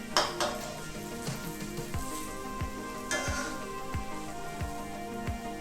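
Banana fritters (goreng pisang) fry in oil over medium heat, giving a steady close sizzle with light clinks and stirring scrapes from utensils against the pan.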